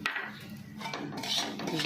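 A utensil scrapes and taps against a pan as gram flour and spices are stirred together, producing close, irregular clinks and scuffs without speech.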